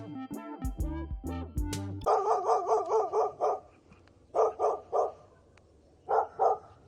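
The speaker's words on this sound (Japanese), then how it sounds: "犬が吠えています。" A dog barks in short repeated bursts, an opening volley followed by clusters of two or three sharp barks with brief pauses between, fairly close and clear over a quiet background.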